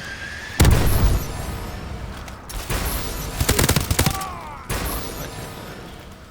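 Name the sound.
missile strike explosions and gunfire in Call of Duty: Advanced Warfare video game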